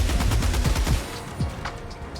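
Heavy machine gun firing in Helldivers 2, a rapid burst of about seven loud, punchy shots in quick succession, then trailing off into echoing reverberation and a few faint distant pops.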